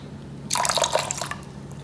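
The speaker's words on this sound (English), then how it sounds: "1 splash of vinegar" A splash of vinegar poured into a mixing bowl of seasoned food, a brief close liquid pour lasting under a second with soft dripping, no speech.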